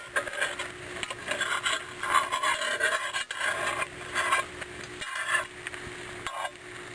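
Metal spatula scraping and rubbing around the edge of a purslane omelet in a cast iron pan, a steady rasping scrape in several strokes with faint sizzling underneath, close and moderately loud.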